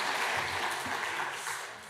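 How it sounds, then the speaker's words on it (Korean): A church congregation applauds together, a dense, steady wash of clapping that fills the room and tapers slightly at the end. "귀한 사명 감당해 주신 선교사님들에게 박수 부탁합니다"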